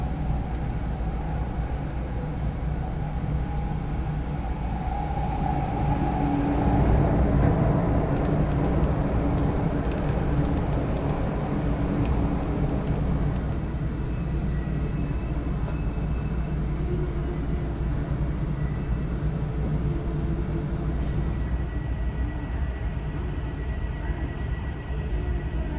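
A Tohoku Shinkansen Max double-decker bullet train runs near Nippori after leaving the tunnel, a loud steady rumble and rushing roar heard from inside the cabin throughout, with no talk.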